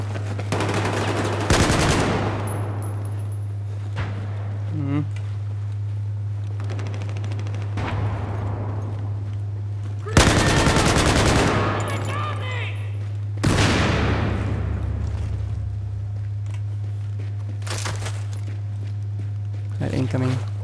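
Machine gun fire in the Battlefield 4 video game, heard as several loud bursts spread across the stretch, over a steady low engine hum and game noise, with some speech-like sounds from players.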